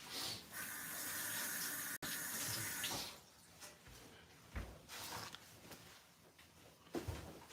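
Hands are washed under a running water tap, a steady rush of water for a few seconds that then stops, followed by scattered soft knocks and handling sounds.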